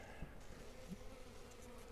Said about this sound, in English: It's covered in bees.